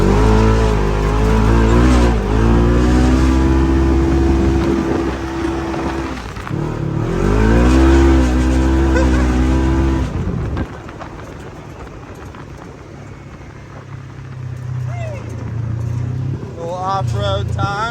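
A side-by-side off-road vehicle fitted with front sand tires drives off-road, its engine roaring and revving loudly before easing off into a lower rumble, with voices heard over the driving.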